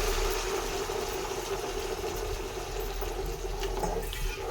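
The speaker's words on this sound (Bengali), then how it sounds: "সেই ডালটা দিয়ে এবার ভালো করে আমি ফুটিয়ে নেবো" Boiled chickpea dal with coconut simmering in a covered pan, a steady close bubbling and rushing sound with no voices.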